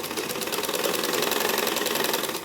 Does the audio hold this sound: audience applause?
no